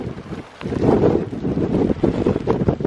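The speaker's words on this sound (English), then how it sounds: "it's blowing an absolute gale up there" A strong gale blasts a mountain wild camp in the Black Mountains of the Brecon Beacons, loud roaring gusts buffeting the microphone almost continuously with a brief lull near the start.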